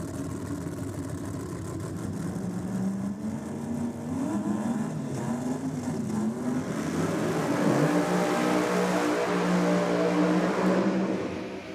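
Drag racing car launching down the track at a 2023 KENDA 660 event, a loud sustained engine roar building and climbing in pitch as it pulls away, steady and powerful throughout with no talk.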